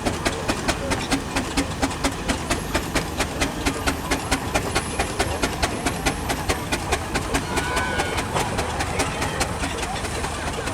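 Full-size Marshall steam traction engine moving around a country show arena, its exhaust chuffing in a steady, regular beat close by, with faint crowd noise and a few high whistle-like tones behind.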